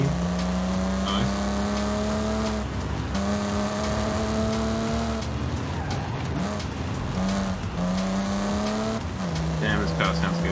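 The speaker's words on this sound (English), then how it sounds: "Damn, this car sounds good." A racing car engine in Forza Horizon 5 revs high through the gears, with steady whining tones that drop at each shift and some tyre squeal, heard close and continuous under faint talk.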